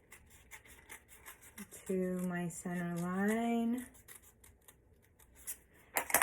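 Scissors snip through a paper card toward its center line for a pop-up heart card, giving quick repeated close cuts, with a brief voiced sound in the middle.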